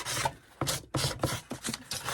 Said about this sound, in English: So I'm going to use my sanding block because I can't find my sandpaper.